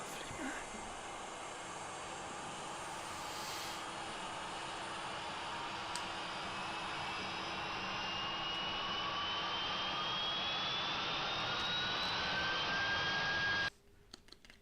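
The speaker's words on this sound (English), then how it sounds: "Checking, starting our engines." Airbus A350-1000 jet engines spooling up in a flight simulator, a steady roar with a slowly rising whine that climbs over several seconds before cutting off abruptly near the end, with faint clicks.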